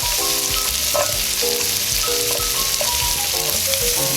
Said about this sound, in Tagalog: simulan na po natin ang ating paggisa. Butter, sibuyas, bawang.